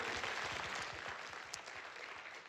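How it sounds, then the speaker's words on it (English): Church congregation clapping at a business meeting, a brief burst of many hands with distinct claps audible at first, fading gradually as it goes on. "You can clap."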